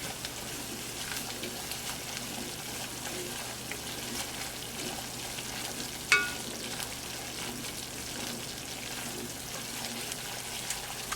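Flour and fat cook together in a pot as the roux base for a turkey pot pie, giving a soft, steady sizzle and occasional stirring scrapes, with one brief clink midway.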